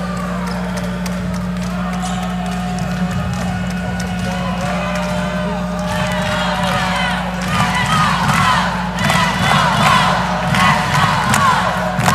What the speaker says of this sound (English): And there's a lot of chanting in the crowd.